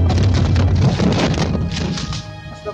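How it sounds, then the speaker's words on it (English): A massive crash as a landslide of liquefied soil slides into the sea beside a boat at Palu, Sulawesi, Indonesia, during the tsunami: a loud, continuous, rumbling roar that gradually fades toward the end. "Suddenly, however, a massive crashing sound is heard."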